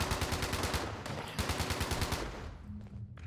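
Rapid automatic gunfire in a shooting video game, a dense, loud stream of evenly spaced shots that runs for a few seconds before tapering off into a fainter hum.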